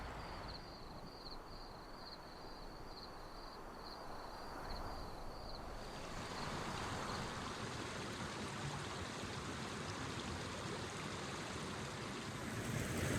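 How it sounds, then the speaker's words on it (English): River flowing in the Scottish Highlands along the Cape Wrath Trail, a soft continuous rushing wash heard at a distance. A faint high steady tone fades out partway through. "The sound of the river was perfect for a great night's sleep."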